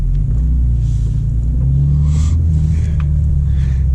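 A 2025 BMW M2 with an 8-speed automatic pulling away, a deep steady engine rumble with low droning tones heard from inside the car, continuous and fairly loud.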